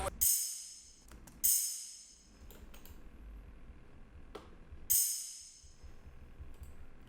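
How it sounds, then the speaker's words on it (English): Open hi-hat in a rage-style trap beat: a few quiet, bright, sizzling hits, each decaying over a second or so, spaced irregularly over a faint background. "open hat."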